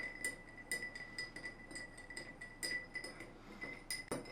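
A bar spoon stirs a cocktail over large ice in a glass, giving faint repeated clinks and rattles in a quiet room.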